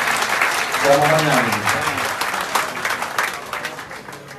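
An Italian political rally audience claps for someone, a dense round of applause that fades gradually toward the end, with a voice speaking briefly over it.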